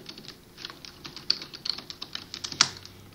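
Rapid keystrokes on a computer keyboard, an irregular run of light clicks close by with a few sharper taps, no voices.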